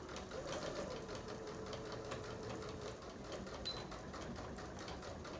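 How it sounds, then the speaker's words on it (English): A sewing machine runs in a steady, continuous whir while stitching along the curved edge of fabric for a baby bib, loud and close with no pauses. "Again, I'm just following that hole and the curve, making sure that I'm sewing on the edge of the fabric."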